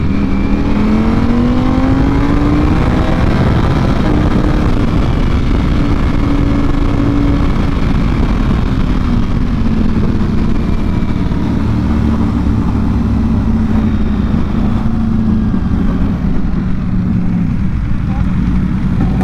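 Engines of a Yamaha R1M and a Ducati on a road ride, droning loud and steady with rising and falling revs under rushing wind, with voices talking over them.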